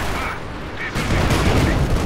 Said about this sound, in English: For some reason, they really want some artillery on the side now.